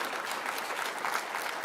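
Tourism staff applaud at a city's State of the City address, a steady wash of hand claps from a crowd, sustained and fairly even throughout.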